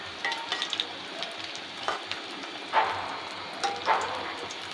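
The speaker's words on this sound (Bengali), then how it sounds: "দেখতেই পাচ্ছেন আমি আস্তে আস্তে জাল করে নিচ্ছি যেন বেগুনটা ভাজা হয়ে যায়, মুচমুচে হয়" Eggplant slices fry crisp in a pan with a continuous crackling sizzle, punctuated by a few louder bursts and light scraping as they are turned, with no voices.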